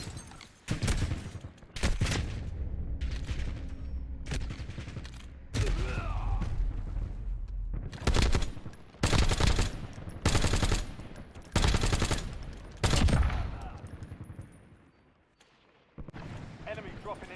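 Video game gunfire: loud, heavy bursts of automatic fire alternate with pauses, with heavy booms, while a voice speaks in between.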